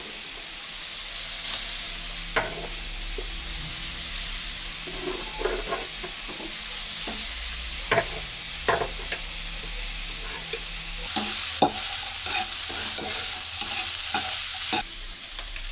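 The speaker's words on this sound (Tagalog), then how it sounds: "Ipatag natin itong oil. Then, lagay na natin itong sibuyas." Onions frying in oil in a pan, a constant crackling sizzle broken by repeated sharp scrapes and clacks of stirring, close and steady throughout.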